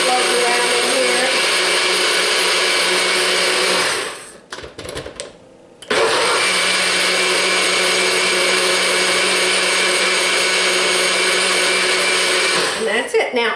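A blender whirs loudly and continuously while mixing a frozen fruit diet shake or smoothie, cutting out briefly for about two seconds before roaring back up for a long steady run.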